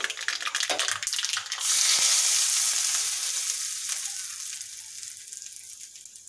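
Curry leaves and dried red chillies hit hot oil for a chana dal chutney tempering, a loud hissing sizzle that bursts up after some stirring clatter and then slowly dies down, with no talk.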